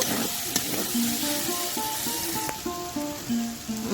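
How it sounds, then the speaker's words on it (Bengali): Chili powder and turmeric being stirred into banana flower frying in a pan: a steady sizzle with repeated scraping strokes of a spoon against the pan, close and moderately loud, with no talking. "লঙ্কা গুঁড়ো দিয়ে ভালো করে নেড়ে নেব।"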